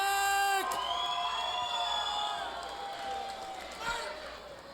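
Arena crowd at a Pittsburgh MMA event cheers and whoops loudly for fighter Jessica "the Zombie" Zomchek, a sustained roar of many voices with scattered shouts, rising again near the end under an announcer's amplified voice.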